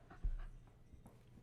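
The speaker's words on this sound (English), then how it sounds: "This dog's driving me insane." A dog pants and whimpers close by in a quiet room, giving a few short breathy puffs and soft whines.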